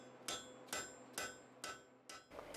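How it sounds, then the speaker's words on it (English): A light blacksmith's hammer forges the corner of a steel bar square, with five evenly spaced, ringing strikes at a steady rhythm, fairly faint and close. "you really don't need a heavy hammer, swinging at arm's length to get the job done"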